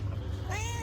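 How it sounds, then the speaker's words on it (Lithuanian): A single short cat meow rises over a low steady rumble, close by. "Katinas atnešė mėsos ir žaidžia su ja"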